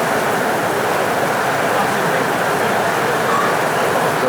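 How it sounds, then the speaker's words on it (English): Heavy rain pouring steadily from shelter during an outdoor Pokémon Go Community Day, a dense, loud, unbroken hiss with no pauses. "The rain's that interesting, even other people are taking videos of it."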